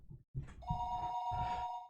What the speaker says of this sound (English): The phone rang